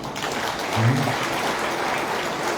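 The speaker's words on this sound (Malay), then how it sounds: "beri tepukan" An audience at a public servants' rally in Perak claps together, a dense steady ripple of applause across the whole moment with a brief low voice near the start.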